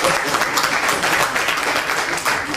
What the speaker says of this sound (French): qu'on puisse quand même l'applaudir véritablement